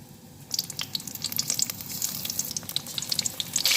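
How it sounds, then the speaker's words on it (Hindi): Coated eggplant pakora drop into hot oil, setting off a sudden, loud crackling sizzle that starts half a second in and keeps popping busily, heard up close with no speech. "ये देखिए अब हम इसमें जो है ना बैंगन की कोटिंग करेंगे। इस तरह से हमने बैंगन को भी फ्राई कर लेना है।"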